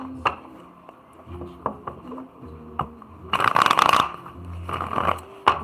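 Playing cards are shuffled with a few soft taps and flicks, then a sharp riffling burst of cards rattles close by, followed by a final snap, with no talk.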